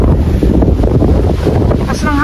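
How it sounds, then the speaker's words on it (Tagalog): Strong wind roars across an open-air microphone on a starry night in Saint Vincent, a loud, steady buffeting rush that continues for the whole stretch with no speech. "Lakas ng hangin, grabe."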